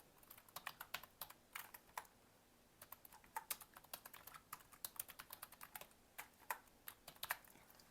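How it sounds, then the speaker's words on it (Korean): An email address is typed on a computer keyboard: a quick, uneven run of light, close key clicks with short pauses between bursts, quiet and with no talking. "직접 이메일 주소 입력해 주시면 되고요"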